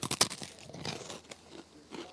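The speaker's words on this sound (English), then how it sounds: "can you hear me chewing?" Close, crunchy chewing of a bite of food, with sharp crackling bites in the first half-second followed by softer, irregular mastication crunches that fade slightly toward the end, alone without talk.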